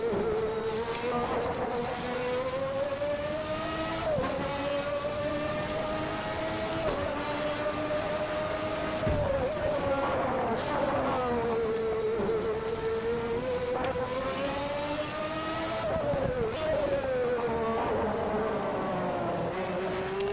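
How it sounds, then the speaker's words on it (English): Honda V12 engine of a McLaren MP4/6 in a racing video game, a steady loud high-pitched whine that rises and falls with throttle and gear changes through corners, alone with no talk. "About 780-ish horsepower coming out of this Honda V12."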